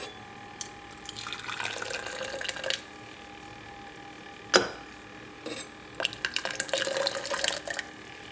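Hot water at 175 degrees being poured into a matcha shaker over a scant two scoops of matcha powder, a steady trickling stream with a sharp clink partway through, then a second fuller splashing pour.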